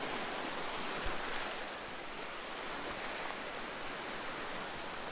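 Continuous broadband ocean surf washes around a camera tripod standing in the sea at an Australian shoreline, a steady close roar of waves with a few small knocks and no voices.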